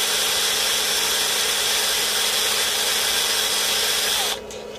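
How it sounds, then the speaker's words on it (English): A power drill spinning a large magnet fixed to its chuck, giving a loud, steady high-pitched whine and motor hum held for several seconds before cutting off abruptly near the end. "bear in mind, a bloody big magnet on the end of a drill"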